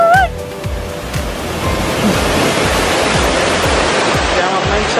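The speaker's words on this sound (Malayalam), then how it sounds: "അപ്പൊ നമ്മൾ ഇന്ന് ചീയപ്പാറ വാട്ടർഫോൾസ് എത്തിരിക്കുകയാണ്" Cheeyappara waterfall in Munnar, Kerala pours heavily, a loud, constant rushing roar close by that fills the whole stretch; a brief birdlike chirp sounds at the start.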